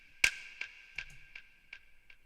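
A single sharp finger snap is followed by a trail of delay echoes, five or six repeats at an even pace that fade steadily, soft and alone.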